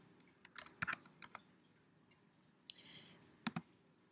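Mouse clicks on a computer while working in Dreamweaver, a few quick sharp clicks close to the mic with short gaps between them, fairly quiet over faint room hiss.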